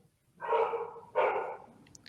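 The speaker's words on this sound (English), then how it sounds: "dinner's here, so the dogs are barking." Dogs bark twice indoors, two loud, close, drawn-out barks about half a second apart, followed by a faint high whine and no talk.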